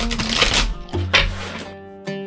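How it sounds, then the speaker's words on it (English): A deck of tarot cards is shuffled by hand, giving sharp bursts of riffling and slapping in uneven clumps, close and fairly loud, with short pauses between them. "let me go ahead and give these a little bit of a shuffle."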